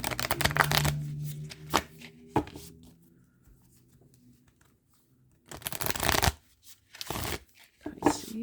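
Oracle cards are shuffled in brisk bursts of close, crisp riffling and flicking, with a quiet pause in the middle. A voice speaks briefly between the shuffles.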